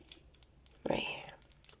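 One close, quiet click from pressing the Z button on a Nintendo game controller, a single crisp press that fades quickly against near silence.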